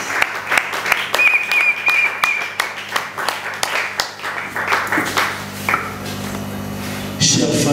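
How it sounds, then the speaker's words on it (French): A congregation at a French-language funeral service claps to acclaim the Lord: loud, steady rhythmic clapping that thins out and gives way to a low hum. "on peut acclamer le Seigneur"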